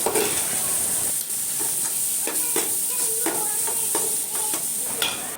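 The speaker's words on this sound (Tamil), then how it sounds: "அந்த மசாலா வந்து நல்லா ஆயில்லையே வந்து நம்ம கொஞ்சம் சிம்மில் வச்சு நல்லா வந்து வதக்கணும்" Masala sautéing in oil on low heat, a constant hissing sizzle with a high steamy edge, punctuated by repeated clinks and scrapes of a spatula against the pan, close and loud.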